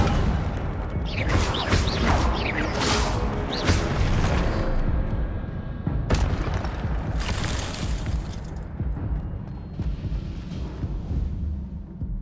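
A fire spell, Incendio, is cast in the Hogwarts Legacy video game, giving several bursts of crackling, shattering blasts that surge loud and dense over a rumbling game soundscape, ending in a sustained roar.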